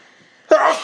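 A single sharp sneeze bursts out after a brief quiet pause, close and loud, in a room during a Big Brother 22 gathering.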